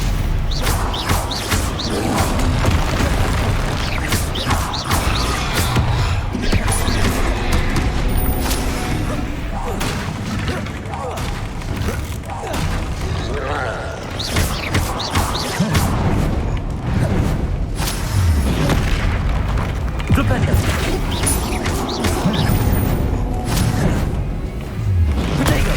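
Spell explosions, booms and whooshes from combat in Hogwarts Legacy, a dense continuous barrage of thuds and blasts running throughout, with a voice speaking over the action.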